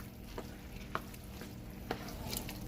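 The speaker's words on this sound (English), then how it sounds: "Stir everything in together." Jollof rice mixture with jerk sauce and blended water being stirred in a pot: a steady sizzling bed broken by a few soft spoon scrapes and knocks, close and alone with no talk.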